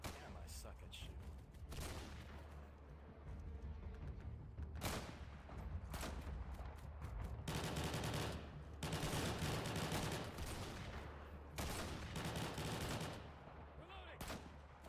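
Video game gunfire crackles in repeated loud bursts of automatic shots over a steady low rumble, with a voice talking in between.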